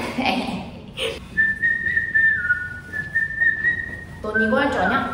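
A person whistling a sustained tune up close in a school setting, steady clear notes, with brief voices and noise at the start and end.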